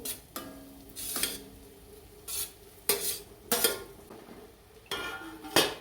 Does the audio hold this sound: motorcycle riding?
no